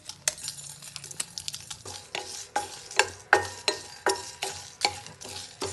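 Chillies and spices dry roasted in a pan, a spoon scraping and tapping against the metal in a steady repeating rhythm, close and clear with no speech.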